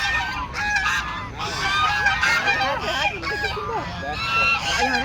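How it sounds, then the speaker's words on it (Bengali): A flock of ducks at a park pond at Eco Park keep up loud, overlapping honking quacks nearby, with people talking amid the calls. "ওরে বাবা হাঁসগুলো কেমন ডাকছে"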